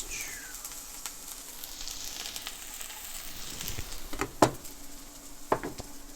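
Shallots sizzle in a hot frying pan on a turned-down burner, a steady soft hiss with a few louder crackles and utensil clinks near the end.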